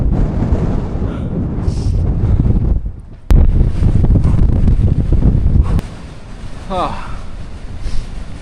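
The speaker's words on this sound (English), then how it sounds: "as you're probably listening to incredible wind noise" Strong wind buffets the microphone at naturally formed caves in a cliff face, roaring loudly and continuously with a brief drop partway through, while someone talks underneath.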